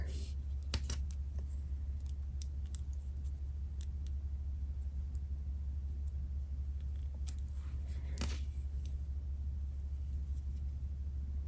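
Scissors snip the yarn tail on a crocheted ring snowman ornament, giving a couple of sharp, brief cuts over a steady low electrical hum.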